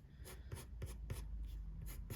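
Colored pencils stroke across smooth paper during coloring, a soft scratchy rhythm of about eight quick strokes, close and quiet, with no talking.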